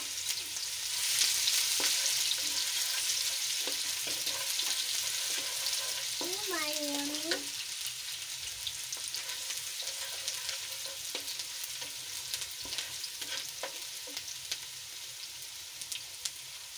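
Chopped onions frying in a cup of hot ghee for aloo baingan, a steady soft sizzle throughout with occasional stirring scrapes, close and moderately quiet with no talking.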